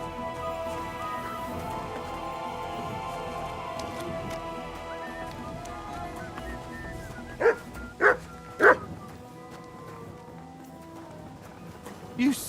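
A dog in the medieval world of Kingdom Come: Deliverance II gives three sharp barks in quick succession at mid-distance, cutting through steady game ambience with horse hooves and a background voice.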